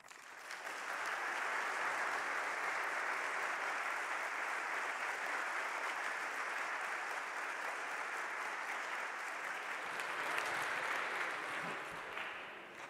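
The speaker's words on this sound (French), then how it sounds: "Merci pour ces applaudissements." An audience in a lecture hall at the Sorbonne applauds after a lecture on Napoleon; sustained, even clapping from many hands, moderately distant, swelling in and tapering off near the end.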